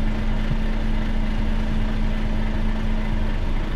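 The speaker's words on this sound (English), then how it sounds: "I hear an engine." A truck engine runs steadily at idle, a constant low rumble with a humming drone that carries evenly through the whole stretch with no voices.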